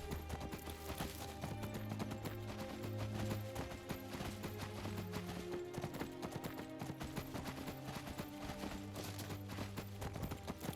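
Rhythmic clip-clop of a horse named Frost trotting in Skyrim, steady hoofbeats running under loud game music throughout.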